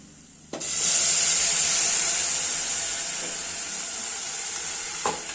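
An onion mixture for a fenugreek-leaf lentil kuzhambu bursts into a loud, close sizzle as it hits a hot pan, then fries steadily with a soft stir and a light clatter near the end.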